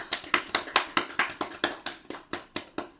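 A small group of people clap together in a quick, slightly ragged rhythm, a dozen or so sharp claps spread evenly over a few seconds with nothing else behind them.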